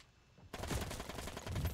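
Rapid burst of gunfire in a World War infantry video game, a dense crackling volley that starts abruptly after a near-silent moment and continues loud and close.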